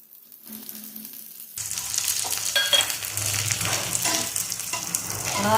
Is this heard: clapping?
no